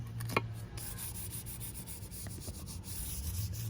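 Paint being rubbed into a garden paver, a soft, steady, close scrubbing and rubbing with a few faint taps, quiet and without speech.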